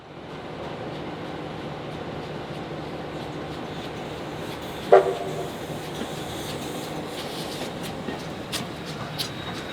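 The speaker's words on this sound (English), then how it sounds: "The steam engine on this trip is R707." Train R707, a Hudson steam locomotive built in 1951 by the North British Locomotive Company in Glasgow, rolls along with a steady rumbling clatter of wheels on rails and one brief louder knock, continuous and fairly close.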